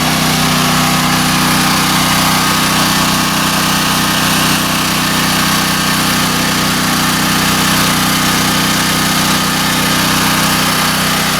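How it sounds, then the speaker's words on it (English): A portable whole house generator runs in the aftermath of Hurricane Francine, a loud, close, unbroken engine drone with a steady buzzing hum throughout. "Got my generator going. This is my generator here."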